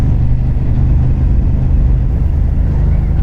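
A Ducati Hypermotard 950 RVE motorcycle with a Termignoni exhaust runs on a night ride, a loud, close, continuous engine drone with strong low rumble and no breaks.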